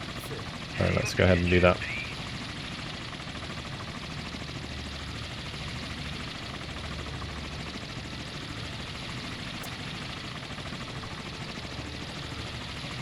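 Helicopters in the Sea Power naval warfare game, a steady rotor and engine drone running continuously throughout, with someone briefly talking over it near the start.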